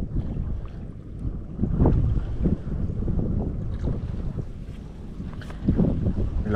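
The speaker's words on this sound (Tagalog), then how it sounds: "Lakas kasi sobra ng hangin, no?" Strong wind buffets the microphone on a small boat on a pond, a continuous rough gusting roar with low rumbles and splashy knocks, close and loud, with no clear speech.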